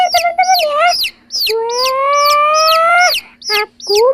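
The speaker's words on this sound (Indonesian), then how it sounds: "Lucu-lucu kan ayamnya." Colourful rainbow-dyed chicks and chickens give a close, loud run of high peeping and clucking calls, repeated rapidly with short gaps and one longer drawn-out cry.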